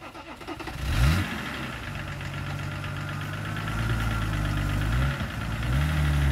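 A UAZ off-roader fitted with a BMW M51 engine and gearbox idles close by, a steady low drone with a short revving rise at the start and a brief dip near the end; no talk over it.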